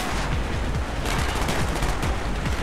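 Dense, continuous gunfire in Call of Duty Black Ops, rapid overlapping shots forming a loud, sustained roar of automatic fire and battle noise with no pauses.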